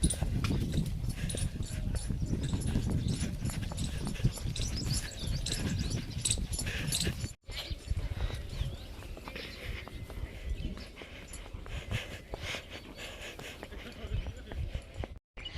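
A mare walking outdoors with hooves clip-clopping in a steady rhythm, mixed with birdsong and general outdoor noise, while people talk over it.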